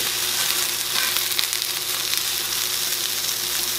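Kiszka, a Polish blood sausage, frying in a pan with onion, giving a loud, continuous close-up sizzle and crackle with a faint stirring texture and no talking.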